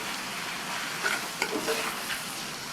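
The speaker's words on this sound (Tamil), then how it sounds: "தேங்காய் விழுது சேர்த்துட்டு நல்லா ஒரு தடவை எல்லாத்தையும் மிக்ஸ் பண்ணி விட்டுக்கணும்" A spoon stirs cabbage and potato curry with coconut paste in a pan, producing soft scraping and wet mixing sounds over a faint continuous sizzle, with a few light clinks.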